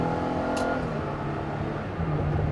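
A 2019 Dodge Caravan SXT wheelchair-accessible van accelerating up a ramp, its engine giving a steady, loud, continuous drone close to the microphone throughout.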